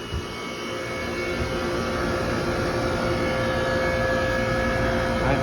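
An HVAC air conditioner outdoor unit running in cool mode roars with a loud, steady rushing drone and a fan hum, rising slightly then holding close and even, with no talk.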